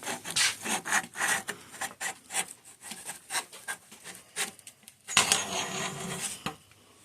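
A hand saw cuts through the steerer tube of a 2018 Specialized Epic S-Works mountain bike fork, a close, rhythmic series of rasping back-and-forth strokes with a brief pause before the strokes resume.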